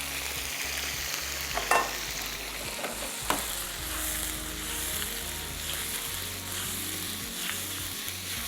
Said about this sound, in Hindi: अब इस पर डाल देंगे ये चिकन